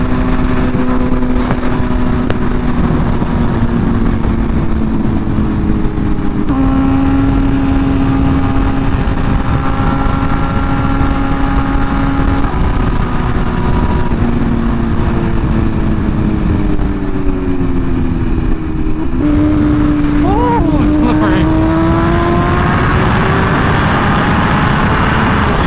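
A BMW M1000RR sport motorcycle ridden through a canyon, its loud, close engine rising and falling in pitch through gear changes over steady wind roar, with no voices.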